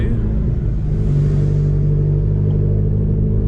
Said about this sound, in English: So I'm driving to a spot to do the wheel review this morning for you guys.